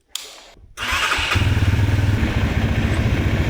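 An Indian Cross Country motorcycle starting up: a brief click and a pause, then the starter cranks and the engine fires into a loud, steady, throbbing idle close by, with no talking.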